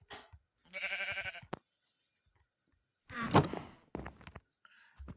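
A Minecraft sheep bleats once, a short wavering cry early on, with game thuds and a person talking later.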